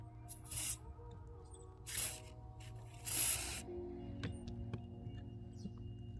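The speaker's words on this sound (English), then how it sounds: "spray into that hole right there" Three short hissing bursts of aerosol spray into a squeaky clutch pedal on a Honda Accord, each about half a second, with quiet rustling and faint clicks in between.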